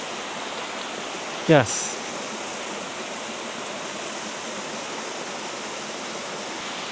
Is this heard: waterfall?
yes